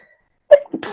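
A single abrupt, loud sneeze bursts out close by, followed by a brief breathy trailing sound.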